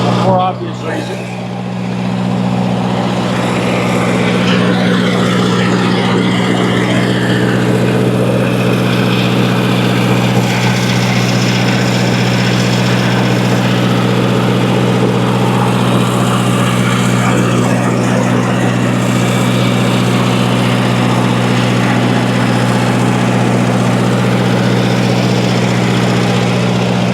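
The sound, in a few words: old Lindsay air compressor running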